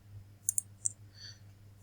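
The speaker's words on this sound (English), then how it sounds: "here I'm clicking on storage account" Computer mouse clicks while navigating to storage accounts in the Microsoft Azure portal, a few crisp, sharp clicks spaced irregularly over a faint low hum.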